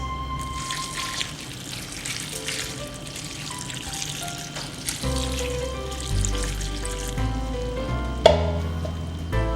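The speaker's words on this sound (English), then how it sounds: "I'll add some water, just enough to barely cover the surface." Water is poured into a hot pot of beans with diced onions and curry powder, giving a continuous hissing sizzle and splashing that swells toward the end, with a sharp clink near the close.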